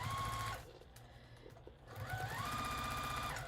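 A sewing machine stitches through paper piecing in two quick bursts of rapid, even needle clatter with a short pause between them, close by and with no talk.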